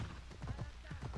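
Horse hooves clip-clop at a quick, even gait in Assassin's Creed Odyssey, the soft rhythmic thuds fairly quiet and continuous over the brief stretch.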